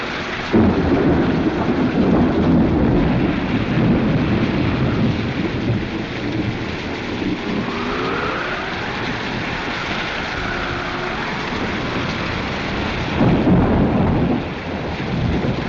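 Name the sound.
thunderstorm with thunder and rain in 1936 film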